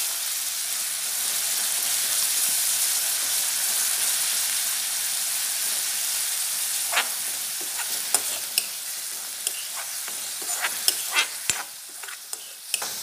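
Chopped onions fry in a pan over a medium flame for stuffed shahi lauki, giving a steady close sizzle and hiss, later broken by scattered clicks and scrapes of a spoon stirring.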